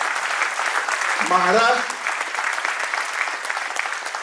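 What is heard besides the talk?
audience applause at a ceremony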